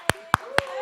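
Three sharp studio claps, evenly spaced and close, each a short crisp snap over a quiet room.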